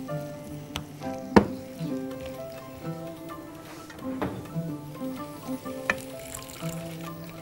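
Tomatoes simmer in a pan for shakshuka, giving a soft, steady bubbling sizzle with a few sharper pops and light clinks of a spoon, close and quiet with no talking.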